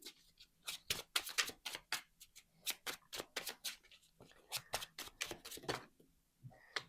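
Tarot-style lyric cards being shuffled by hand, a quick run of crisp riffling bursts and snaps in an irregular rhythm, close and fairly quiet, with no talking.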